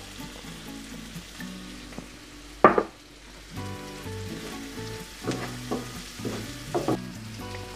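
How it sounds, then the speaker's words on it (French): Onions sizzling in a pan with a film of sunflower oil for a light minced-meat quiche, a steady close fry with a sharper burst of spatter and stirring scrapes, over tonal background music. "Puis on va venir mettre nos oignons dessus."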